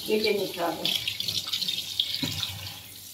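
Pumpkin flowers being rinsed under a running kitchen tap for Bengali fritters, a steady close water stream splashing over the petals with some clatter, while a voice speaks over the washing.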